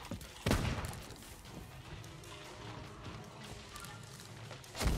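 Gunfire during a video game fortress raid, with a sharp loud shot near the start, a busy clatter of battle noise after it and another burst at the end.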